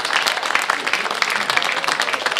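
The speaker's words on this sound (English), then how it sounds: "Cessnock fans, they cheer" Cessnock rugby league supporters cheer and applaud at Harker Oval during a first-grade match against Wests, a dense, steady wash of clapping and crowd noise that holds without a break.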